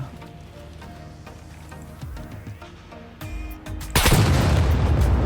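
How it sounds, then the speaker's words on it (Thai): A pot bomb explodes in the video game SCUM: after several seconds of quieter in-game ambience and scattered clicks, a sudden loud blast erupts and rumbles on to the end. "ดูนะครับ ระเบิดหม้อ ไม่รู้ว่ามันจะยิงระเบิด"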